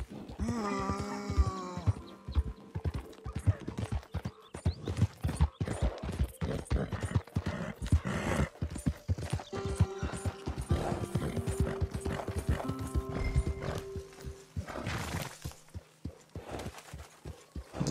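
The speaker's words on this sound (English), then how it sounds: "Get back there, horse. Where are you going?" Hooves clip-clop from a horse in the video game Red Dead Redemption 2, an irregular run of close thuds across the whole stretch with a whinny near the start and faint mechanical rattles.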